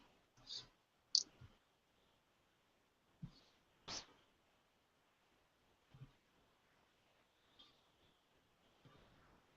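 Keyboard typing in short scattered bursts of sharp clicks, a few taps at a time with pauses between, quiet and close with no talking.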